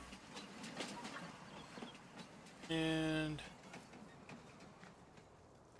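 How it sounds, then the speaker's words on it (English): A train in Farming Simulator 19 passes by on a Michigan map: a brief loud horn-like blast lasts under a second amid steady rumbling ambience, with a voice talking softly. "I'm just going to go ahead and wait for the train to go by"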